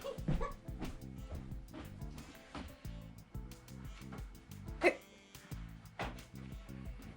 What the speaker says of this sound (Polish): pokaż, jaki pies jest szybki